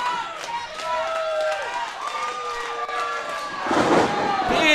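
Wrestling crowd cheering and shouting at a live show, a steady roar of voices with rising excitement near the end and a commentator talking over it.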